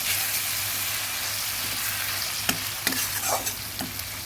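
Prawns sizzle steadily in a hot pan for a prawn malai curry, with a few sharp scraping stirs near the end.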